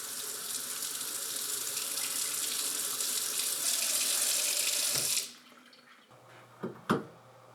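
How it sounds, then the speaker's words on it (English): Water runs from an open faucet after new PEX water lines replace polybutylene piping: a steady, close rushing stream for about five seconds, then shut off, leaving a few faint drips and clicks. "Keep the faucet open until there's no air present."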